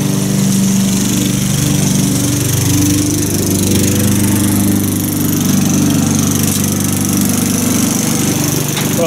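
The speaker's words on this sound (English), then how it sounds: "This is an old 94 Craftsman lawnmower." An old 1994 Craftsman lawnmower engine runs steadily and loudly throughout, a constant droning rumble with no voices.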